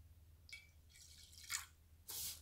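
Coffee is poured in small amounts into a shallow dish of water for dyeing paper, making a few quiet, separate trickles and splashes with pauses between them in an otherwise still room.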